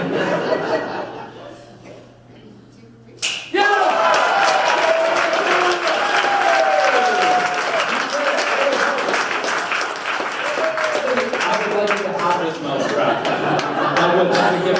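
A conference lunch-keynote audience breaks into loud, sustained applause with laughter mixed in, a dense wash of clapping that starts abruptly after a quiet moment and carries on steadily.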